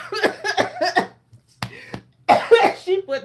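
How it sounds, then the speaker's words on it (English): A woman coughs in a few harsh, close bursts with short gaps between them, mixed with some breathy laughter and voice sounds. "She's trying to kill me. Got me over here coughing."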